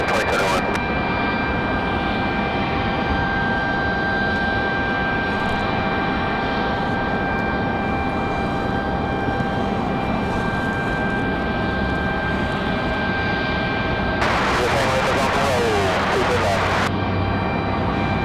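An aircraft on final approach to runway 23 left at Raleigh-Durham International Airport drones steadily with a sustained jet whine, heard at a distance while people talk throughout.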